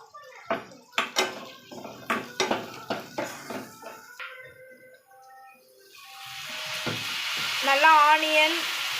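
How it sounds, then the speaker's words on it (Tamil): Dry red chillies fry with turmeric in a home-kitchen pan. A spoon clatters against the metal several times, then a steady, rising sizzle swells and fills the background. "அப்புறம் வரமிளகாய் போட்டு நல்லா வணக்குறாங்க."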